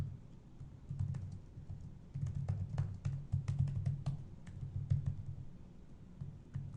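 Close, quiet clicks from a computer keyboard come in uneven runs of keystrokes while an access list is typed, over a low background hum.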